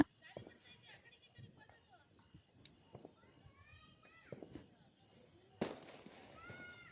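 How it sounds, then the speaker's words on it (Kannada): Scattered sharp pops and crackles of firecrackers going off at a distance during the Balipadyami festival, with a whistling rocket-like tone and a louder burst near the end. "ಸೊ ಅದಾದಮೇಲೆ ತುಂಬ ಪಟಾಕಿ ಹೊಡಿತಾ ಇದ್ರು"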